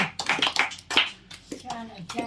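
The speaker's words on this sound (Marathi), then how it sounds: "टाळ्या वाजवा सगळ्यांनी" A short burst of hand claps mixed with children's voices and chatter, the claps quick and close, fading as talking continues.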